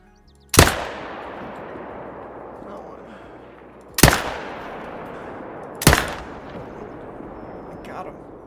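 Three loud, sharp rifle shots from a whitetail deer hunting game, spaced a few seconds apart, each booming up close and then trailing off in a long echoing decay across open terrain.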